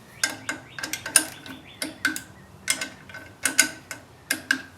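A torque wrench clicks repeatedly while bolts are checked on a 1965 VW Beetle under restoration, a dozen or so sharp, close metallic snaps in uneven bursts over a quiet background.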